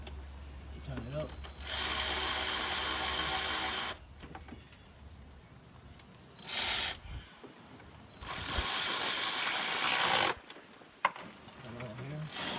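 A ratchet wrench tightens a valve cover nut on a 2010 Toyota Tacoma 2.7, two long bursts of rapid clicking and a short one in between, close up, with brief talk in the gaps.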